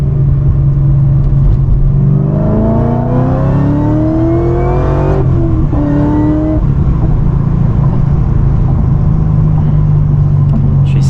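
A car on a street drive in Brisbane gives off a rising and falling engine whine above a loud, steady road rumble that fills the whole stretch.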